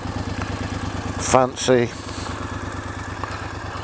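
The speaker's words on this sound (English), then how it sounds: "So yeah, that's the Triumph Scrambler." A Triumph Scrambler motorcycle with twin pipes idles with a steady, close, low rumble that continues throughout while someone talks briefly over it.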